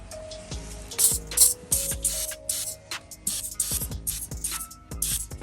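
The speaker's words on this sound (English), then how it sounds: "Spraying these jams." Repeated short bursts of aerosol lubricant sprayed on the door jambs of a 1992 Camaro Z28, several quick hisses in an irregular rhythm, mixed with light clicks and creaks nearby.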